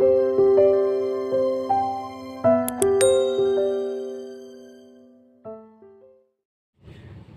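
A sequence of bright chiming bell tones rings out, ascending then layered into a ringing chord that decays, followed by a short final ding.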